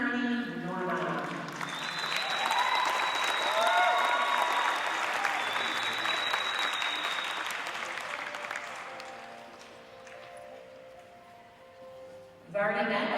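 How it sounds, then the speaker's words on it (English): A crowd in a show arena at the New York State Fair dairy show claps in sustained applause for the Grand Champion Jersey cow, swelling then fading, with an announcer talking before and after. "Let's have a round of applause for our Grand Champion, Jersey, DC Harmony Norma."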